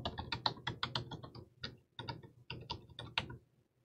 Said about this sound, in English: And then I'll type in the password.